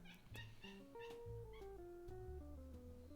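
A house cat meows several times in a row, drawn-out and rising and falling in pitch, fairly close and alone in a quiet room.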